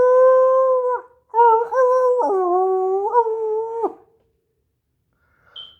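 A human voice imitates a werewolf howl with several long, sustained, wavering tones that rise and fall, with short breaks between them, loud and close, then silence.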